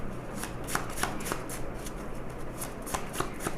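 A deck of tarot cards being shuffled by hand, with a steady crisp riffle and slap of card stock carrying on continuously at close range and moderate volume, with no talking.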